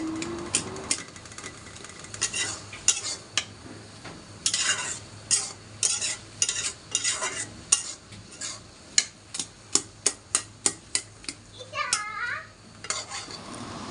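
A spatula turns taro leaf greens in a pan over and over, scraping the metal in regular strokes that sharpen into crisp rhythmic taps, with a soft sizzle underneath.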